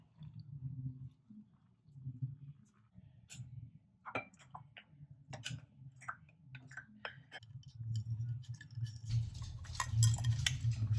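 A spoon stirs instant boba milk tea made with water in a cup, giving sparse light clinks and ticks over a low steady hum, close and fairly faint.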